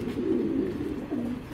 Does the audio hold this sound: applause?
no